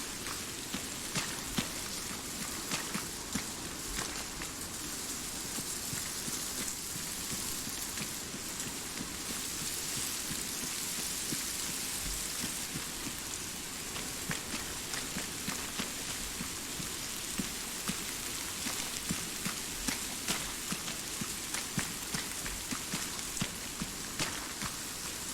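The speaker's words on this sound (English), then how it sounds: "Raining in Tanoa." Steady rainfall on the island of Tanoa in the Arma 3 video game, a dense, even hiss of drops hitting surfaces with scattered sharper spatters, continuous and moderately loud with no talk.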